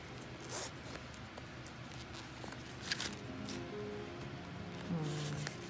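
The zipper on a small Coach double-zip wristlet is pulled in a few short, close scratchy runs, with light handling rustles between them and no talking.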